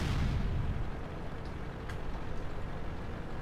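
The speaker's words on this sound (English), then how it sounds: "Oh, the artillery!" A Hummel artillery shot in World of Tanks, a deep muffled boom rolling in at the start and fading into a low rumble, distant-sounding and fairly quiet.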